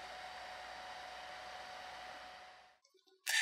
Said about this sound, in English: When I heat it with a hairdryer